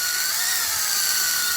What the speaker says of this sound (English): we'll go ahead and tighten this wire, or braid the wire using the drill